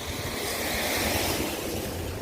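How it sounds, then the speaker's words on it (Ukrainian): Strong wind roaring steadily against the microphone, a dense continuous rush with low buffeting and no pauses. "Дуже сильний вітер вже сніг весь розтанув."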